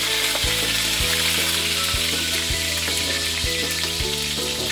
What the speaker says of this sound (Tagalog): So, hotdog muna ang una natin lutuin.